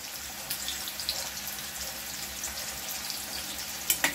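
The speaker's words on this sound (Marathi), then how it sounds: "तेल आता माझं चांगलं गरम झालेलं आहे। आता कांदा टाकून घेऊ फोडणीसाठी।" Steady, fairly quiet hiss of onion sizzling in hot oil, with a few small pops and crackles and no voices.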